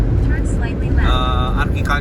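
Large agricultural trucks rumble along a road in Brazil, a low, steady roar of heavy traffic beneath a person talking up close.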